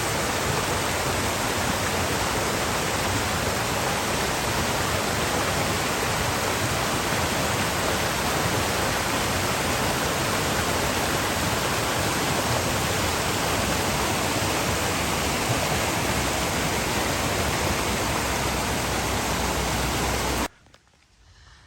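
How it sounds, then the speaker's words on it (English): A steady, loud roar of rushing water from a waterfall swollen by heavy rain on the Appalachian Trail in New York, continuous and unbroken, ending abruptly. "All this rain makes great waterfalls."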